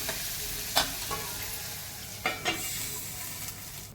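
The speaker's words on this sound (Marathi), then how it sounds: "डाळ अशी थोडीफार आपण शिजवून घ्यायची आहे" Lentils with turmeric sizzle steadily in a pan while a utensil stirs them, with a few sharp scraping clicks scattered through; no one speaks.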